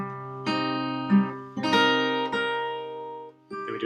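An acoustic guitar plays a melody on top of a fingerpicked chord, a few sustained plucked notes ringing out clearly and alone with a bright, close tone.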